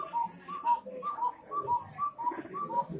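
Small mechanical cuckoo clock giving a rapid series of high two-note cuckoo calls, repeated about five or six times in quick rhythm, close and moderately loud.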